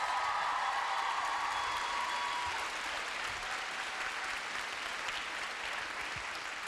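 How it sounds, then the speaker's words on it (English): Audience at a Melbourne fan convention breaks into a sustained round of applause, dense steady clapping filling the hall for several seconds before gradually thinning, with faint crowd murmur and no voice over it. "can we all just give Robin a nice round of applause?"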